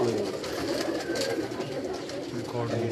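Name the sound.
pigeon cooing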